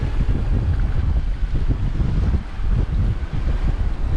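Strong 15-18 knot wind rushes over a sailboat crossing open water in Denmark, a continuous heavy roar with buffeting gusts on the microphone and no voices.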